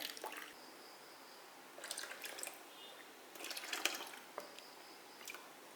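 Water strained from churned butter is poured into a container while making ghee at home; faint splashes and drips come in a few short bursts with quiet gaps between.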